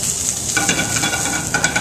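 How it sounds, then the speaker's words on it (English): Mushrooms sizzle loudly in a hot frying pan, a dense continuous crackle and hiss with faint stirring, close and without talk. "We still have the heat going. We've got the sizzle going to give it the flips."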